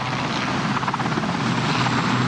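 A helicopter lands on a playing field next to a hospital, its rotor thudding loud and close throughout, a dense continuous roar with rhythmic blade beats and no talk over it.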